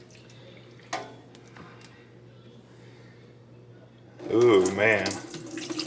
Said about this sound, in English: So let's go ahead and empty this tank and see how nasty it is already.